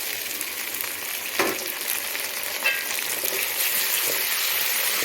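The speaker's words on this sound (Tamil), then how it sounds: "இதை போட்டு நல்லா வதக்கி விடுங்க." Tomatoes sauté over medium heat in a pan for semiya biryani, giving a close, steady hiss and sizzle with a few soft stirring scrapes and no talk.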